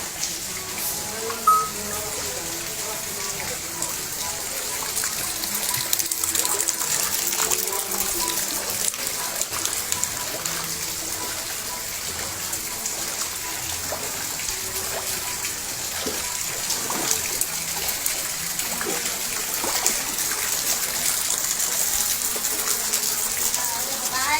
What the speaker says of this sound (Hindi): ये पानी का मंजर है घरों का